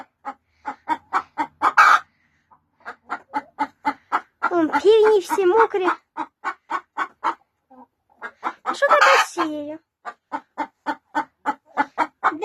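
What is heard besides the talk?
chickens clucking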